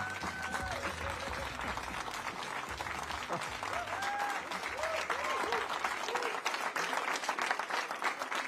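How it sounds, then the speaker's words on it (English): Crowd applause at a political campaign event in the East Midlands, continuous clapping with some cheering and raised voices mixed in, steady and moderately distant. "A big round of applause, please."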